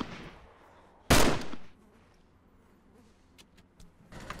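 A single loud, sharp gunshot from a firearm in the survival game DayZ cracks out near the start, decaying quickly, with a couple of faint clicks and a second burst toward the end over quiet ambience.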